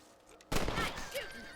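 A sharp gunshot rings out while shooting rabbits in Red Dead Redemption, one sudden loud report followed by a ringing tail, with faint outdoor ambience before it.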